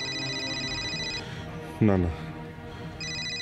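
An incoming call rings on a phone indoors, a repeating electronic ringtone that pauses briefly while someone speaks a short word, then resumes.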